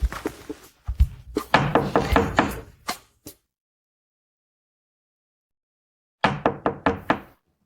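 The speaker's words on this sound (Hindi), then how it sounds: "कोई दरवाजा खटखटा रहा है।" Someone knocks on a door in two rapid series of loud, hollow raps, the first longer and irregular over about three seconds, then after a silent gap a shorter run of five or six knocks.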